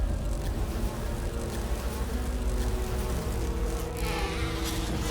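Bees swarm and buzz around a hive in the video game Resident Evil (2002 remake), a dense continuous droning hum that stays loud and close throughout with no talking.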